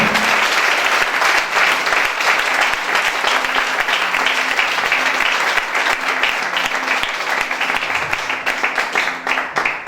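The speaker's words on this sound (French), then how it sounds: "Est-ce qu'on peut acclamer très fort?" A church congregation applauds loudly and steadily, with dense, sustained clapping from a large crowd filling the whole stretch and a faint voice underneath.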